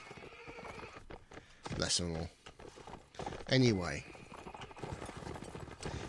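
Cavalry horses pile up in a Mount and Blade Warband Nords versus Sarranids line battle, with clattering hoofbeats and two loud whinnies standing out, while someone talks over the commotion.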